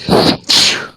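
A single loud sneeze up close, a sharp intake followed by an explosive burst that trails off.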